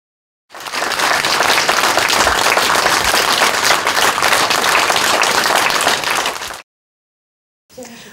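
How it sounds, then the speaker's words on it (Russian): Sustained applause from a large crowd of mourners bidding farewell to a theatre actor, a dense, loud wall of clapping lasting about six seconds before cutting off, then resuming briefly. "Аплодисменты не затихали несколько минут."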